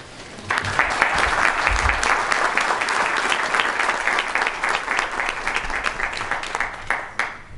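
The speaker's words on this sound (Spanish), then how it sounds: "Un aplauso." A crowd applauds steadily, dense clapping filling the room for several seconds at a loud, even level.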